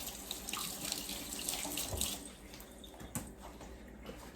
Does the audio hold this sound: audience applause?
no